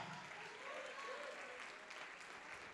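Church congregation clapping in sustained, steady applause, a dense continuous patter from a crowd heard at a moderate distance, with faint voices mixed underneath.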